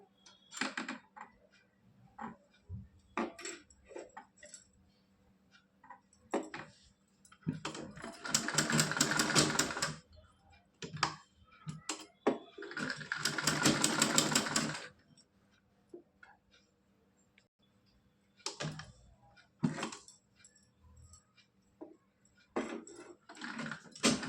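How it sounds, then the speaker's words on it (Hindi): A sewing machine stitches cloth for a Laddu Gopal dress, running in two longer bursts separated by quiet gaps filled with short ticks and clicks of handling. "उसी तरह से इसकी सिलाई भी लगानी है गुलाई करके"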